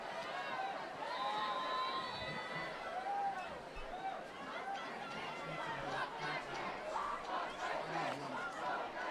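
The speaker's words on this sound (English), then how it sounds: "We hear the chants from Calabasas crowd" A high school football crowd at a Calabasas home game chants and calls out during a kick attempt, a sustained rising and falling roar of many voices at middle distance.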